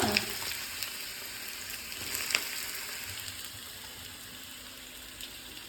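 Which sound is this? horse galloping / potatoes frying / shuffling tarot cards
potatoes frying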